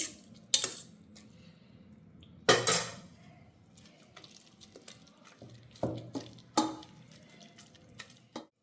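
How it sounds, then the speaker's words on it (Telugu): Gongura and prawn mixture is mashed in a pan, heard as sharp, close scrapes and knocks of a utensil against metal that come in irregular bursts separated by quiet gaps, with no voices. "రొయ్యలు తీసాక మిగతాదల్లా మెదిపేసుకోండి."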